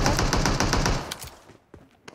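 Rapid automatic gunfire in PUBG Mobile rattles loudly in a dense burst, then breaks off into a few scattered, fainter shots as the firing dies away.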